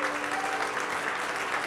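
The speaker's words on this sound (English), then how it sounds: "let's have another round of applause." Wedding guests clap together in a full, steady burst of applause, loud and close, with a faint murmur of voices blended underneath.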